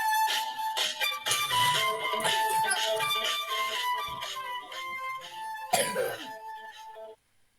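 Someone coughs and clears their throat in a drawn-out fit of several rough bursts, close and fairly loud, then silence.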